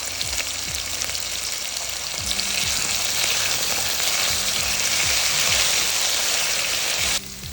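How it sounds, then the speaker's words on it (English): Cubed potatoes frying in a pan with salt, a continuous crackling sizzle that swells slightly as it goes, with a few scraping stirs and no talk. "And then just put your potatoes in."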